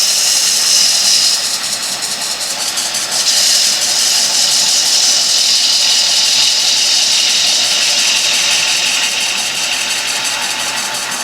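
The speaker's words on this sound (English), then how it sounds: "This is a 1/2-inch spindle gouge. I'm just going to take this work off here." A 1/2-inch spindle gouge cuts a spinning workpiece on a wood lathe, giving a steady, loud, hissing scrape that runs for the whole stretch, with slight swells in intensity and no talking.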